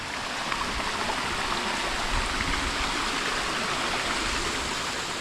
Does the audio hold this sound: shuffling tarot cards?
no